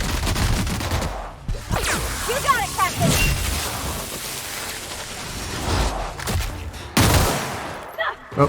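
Close, crackling bursts of gunfire in The Outer Worlds, a sci-fi shooter, in a busy firefight with steady noisy clatter throughout and louder shots near the start and end.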